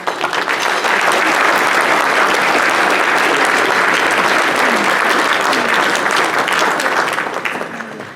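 Dense, loud applause from a bar association audience honoring service in the justice system, a continuous roar of many hands that holds steady before easing off at the end.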